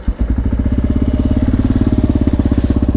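A 2017 Kawasaki KLR650 carbureted dual-sport motorcycle fires up and settles into a steady, loud, close single-cylinder idle with an even pulsing thump, heard alone in icy conditions.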